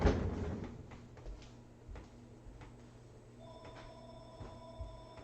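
A telephone rings in repeated electronic bursts, fairly faint against a quiet room hum, with a steady tone running underneath.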